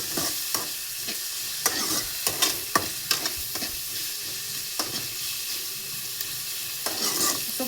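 Onion and capsicum fry in oil with a loud, crackling sizzle, and a spoon stirs and scrapes the pan again and again in quick, uneven strokes.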